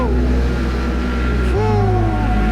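A Kawasaki ZH2 motorcycle engine drones loudly and steadily up close, its pitch climbing as the rider accelerates partway through.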